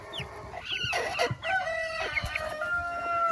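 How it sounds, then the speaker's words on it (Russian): A grey broody hen that has settled back on her eggs clucks and calls in a short series of close, clear vocalizations over a quiet farmyard background. "Она опять заквахтала."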